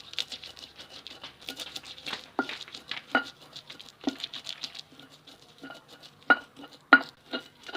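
Roasted peanuts being ground in a mortar for rujak, a quiet run of irregular scraping and tapping strokes from the pestle, close up and alone.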